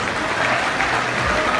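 An audience at a fundraising gala dinner claps together in a brief, dense burst of steady applause.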